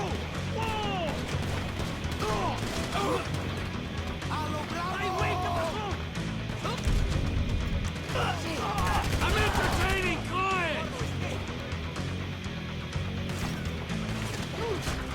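A gunfight in Grand Theft Auto V, with bursts of gunfire and crashes mixed with game music and shouting voices throughout, the shooting rising to a dense volley near the middle.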